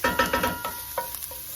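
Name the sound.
onions frying in a pan on medium-high heat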